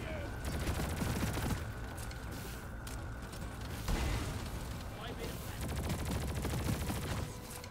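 Bosco, the support drone in Deep Rock Galactic, fires at enemies during a Hazard 6 mission: dense, sustained gunfire mixed with other game noise, with a voice talking over it throughout.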